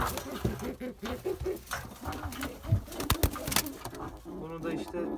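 Pigeons coo again and again in a mixed pigeon coop, with several birds making soft, rhythmic throaty calls close by. A few sharper bird sounds mix in, and there is a faint murmur in the background.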